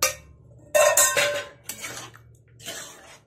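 Grated carrot stirred into milk in a pan for gajar halwa: a spoon scrapes and clanks against the metal pan in several bursts, separated by short pauses, with no talking.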